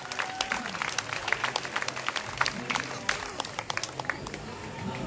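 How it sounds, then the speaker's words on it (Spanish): Crowd applause at an Easter fair in Tuzantla, Mexico, dense scattered clapping from many hands, steady and moderately loud throughout with a faint murmur beneath. "fuerte el aplauso nuevamente para ella."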